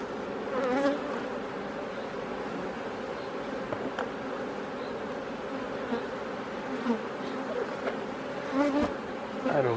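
Dense, continuous buzzing of many honey bees close by at an open hive during inspection, a steady droning hum with individual insects whining past now and then.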